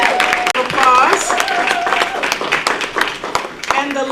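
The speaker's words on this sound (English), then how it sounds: "Applause." An audience at a school superintendent's citation ceremony claps in a steady patter of applause, fairly close, while a voice talks over the clapping.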